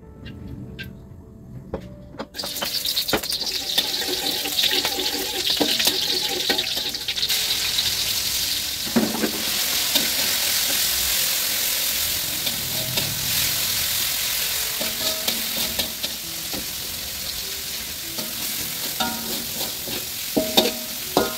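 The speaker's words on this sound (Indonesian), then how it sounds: "Nah kalau misalkan udah, ini tinggal ditumis aja buat bumbunya" Spice paste with bay leaves and lime leaves stir-fried in a pan, a loud continuous sizzle that bursts in after a quiet moment, with intermittent scraping and stirring of a utensil against the pan throughout.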